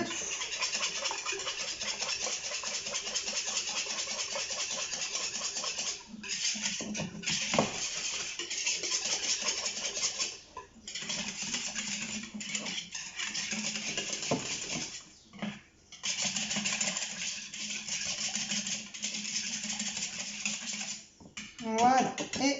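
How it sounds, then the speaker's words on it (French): Utensils clink and scrape against a bowl as ingredients are mixed together, in quick irregular strokes with a few brief pauses, close and fairly clear. "on mélange le tout"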